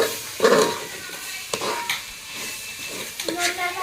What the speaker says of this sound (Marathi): आणि ते आता हलवायचं छान